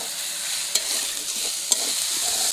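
Curry leaves frying in a pan with onion and potato, a steady close hiss of sizzling oil with two brief louder crackles as the leaves hit, no voices over it.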